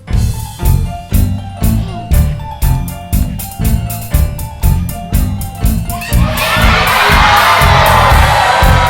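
A pantomime audience of children and adults at a theatre show yells together in loud, rhythmic unison chants, repeated about every half second, then breaks into a sustained roar of shouting and cheering.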